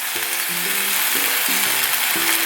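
Spicy squid stir-fries with corn syrup in a hot pan, giving a loud, dense sizzle close up, with brief tonal scraping accents from stirring over the steady crackle.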